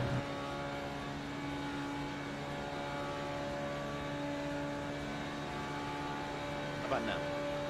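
A Formula 3.5 race car engine in iRacing at Spa-Francorchamps holds a steady, droning tone throughout, with a brief bump in pitch near the end.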